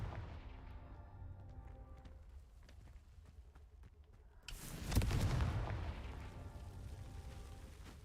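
Confringo fire spell cast in Hogwarts Legacy, a sudden loud blast bursting in about midway and rumbling on for several seconds over a quieter game ambience.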